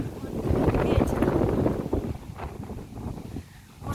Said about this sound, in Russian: Вот ветер.